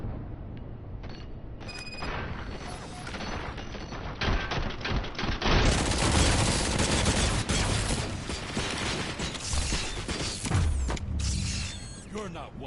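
Rapid gunfire in the RoboCop video game, a dense burst of shots that carries on for several seconds among mechanical clanks and game effects, with faint voices at times.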